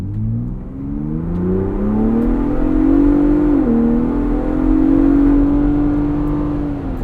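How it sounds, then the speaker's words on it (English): A 2022 Ford Bronco Raptor's 3-liter twin-turbo V6 pulls hard from inside the cabin, a loud rising engine drone that climbs in pitch, dips briefly at a shift, then holds a strong steady tone. "I do really like this 3-liter twin-turbo V6."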